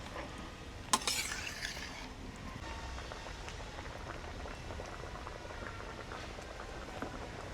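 A pot of khichuri made with gobindobhog rice bubbles and simmers steadily, a soft continuous burble with one brief clink near the start, fairly quiet and close, no voices.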